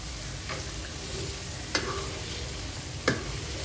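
A big batch of garlic, about a kilo, deep-frying in over a litre of hot oil makes a constant close sizzle, broken by two sharp ticks or pops; nobody talks.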